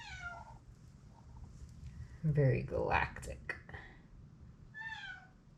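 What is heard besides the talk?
cat meowing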